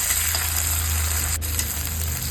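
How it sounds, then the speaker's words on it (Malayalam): Spice paste frying in a pan with onion and curry leaves, giving a steady, close sizzle with a constant hiss throughout and no talking. "കറിവേപ്പില മൂത്തതിൻ്റെ മണം വരുമ്പോൾ ഈ അരപ്പ് ഇതിലേക്ക് ഇട്ട് കൊടുക്കുക."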